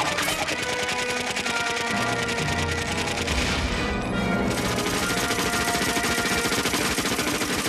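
Rapid, continuous gunfire from an animated Batman episode rattles densely for several seconds, dense and loud, layered with music and crashing effects.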